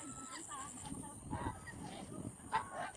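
A baby gosling and adult geese give short honks and peeping calls at close range over background noise, several calls scattered through the moment.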